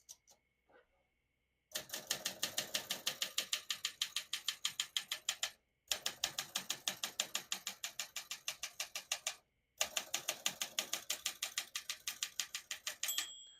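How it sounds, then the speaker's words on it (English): Rapid mechanical clacking of a 1963 Olympia SM5 manual portable typewriter in three bursts separated by short pauses, with a bright margin bell ding near the end. "Once you hear the bell, you're at the end of the margin."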